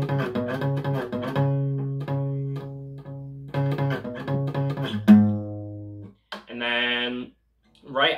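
Electric guitar playing a song: ringing chord strikes and sustained notes in rhythmic bursts, a short pause near the end, then another strummed phrase, close and clear with no talking.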